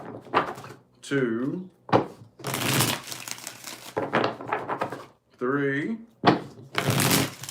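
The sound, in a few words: shuffling tarot cards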